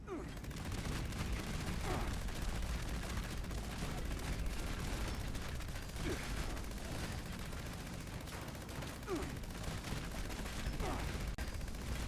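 Gunfire in a video game, dense and continuous with overlapping bursts and booms, fairly distant and muffled, sounding like a chaotic shootout with explosive energy weapons and grenades.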